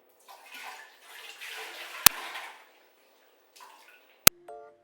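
Water rinses bleach-cleaned bathroom surfaces in uneven splashing bursts, with two sharp clicks and a quieter gap between the washes, heard alone and up close.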